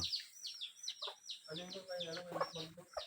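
Chickens in a rural backyard coop cluck and squawk in quick repeated calls, close and fairly faint, with a voice murmuring underneath.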